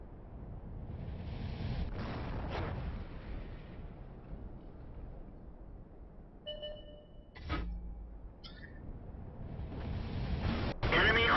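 Artillery fire in World of Tanks: a few distant, muffled booms from self-propelled guns and shell impacts, with one sharper blast partway through and a louder rumble at the end, set against quiet game ambience.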